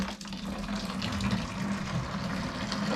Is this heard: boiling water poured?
yes